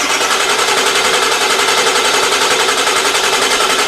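A worn-out old farm truck engine cranking: a loud, fast, even mechanical rattle that holds steady for the full four seconds with no clear catch.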